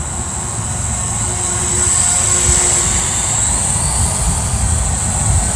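A JJRC Elfie smartphone drone in flight, its motors giving a loud, steady high-pitched whine with a broad rushing hum beneath, sustained and close throughout.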